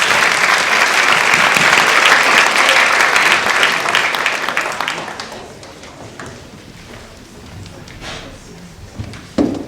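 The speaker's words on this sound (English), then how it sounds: "And yes, we should clap, yes." Audience applause at a school honor society induction ceremony, a loud, dense round of clapping from a seated crowd that swells for about five seconds, then thins into scattered claps and room noise.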